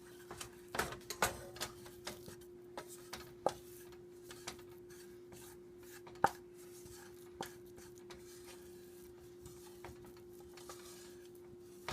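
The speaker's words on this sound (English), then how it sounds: "You have to make sure you keep scraping the sides of the pan so you don't wind up with lumps of flour" A whisk scrapes and taps around a pan while stirring a flour roux for a creamed cod and shrimp casserole, giving irregular clinks and scrapes over a faint steady hum.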